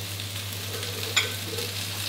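Bean sprouts frying in a little hot oil in a pan over high heat while making Thai crispy fried mussels, a steady close sizzle with one brief louder clatter or stir partway through.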